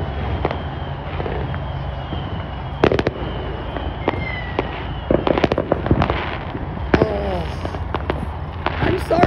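Fourth of July fireworks burst and crackle repeatedly across a wide horizon with irregular loud pops and bangs. Some are close and sharp, others are distant rumbles, and a voice is faintly heard between them.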